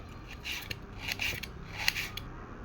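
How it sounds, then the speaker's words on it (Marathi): Knife cutting half a kilo of onions for biryani in a home kitchen, a run of close, soft scraping and slicing strokes at an irregular rhythm, no voices. "आता आपण अर्धा किलो कांदा कापून घेऊया"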